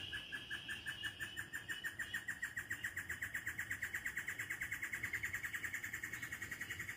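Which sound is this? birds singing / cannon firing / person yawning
birds singing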